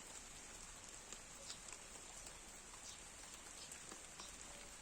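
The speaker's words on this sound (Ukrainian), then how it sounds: "Це в нас такий дощ нарешті. Дощ та сонце." Quiet, steady patter of rain falling, with scattered drops ticking on a surface and no voices.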